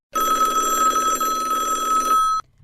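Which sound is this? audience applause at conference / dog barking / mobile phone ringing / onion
mobile phone ringing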